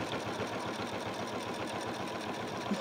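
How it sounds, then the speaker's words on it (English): A sewing machine runs steadily, top stitching William Morris tapestry fabric with a fast, even mechanical whirr and rhythmic needle chatter, close and continuous throughout with no voices. "I'm just pushing that seam under, so that as I top stitch"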